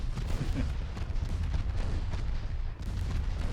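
Naval gun salvos from battleships in Ultimate Admiral Dreadnoughts, heavy booming fire rumbling continuously at steady loudness with a brief dip near the end, no voices.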